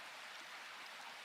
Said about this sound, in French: Remarquez la constance de la pluie